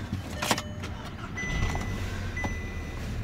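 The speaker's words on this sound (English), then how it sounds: "We'll give this car a start." A 2009 Audi TT Quattro engine starts with a brief crank and catches, then settles into a steady low idle rumble alone, with a faint high whine over it.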